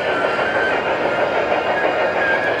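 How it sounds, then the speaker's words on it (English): A toy train runs around its track in a museum, giving a steady, continuous rolling rumble with a faint clatter that holds at an even level throughout, without any speech. "This is Trevor's favorite train in the entire museum right there."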